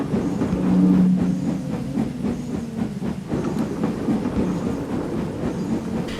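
Gordon, a steam engine, puffing down the line, a steady rumbling rail roll with rhythmic chuffs and clickety-clack, a brief whistle-like tone near the start, moderately close, no talking.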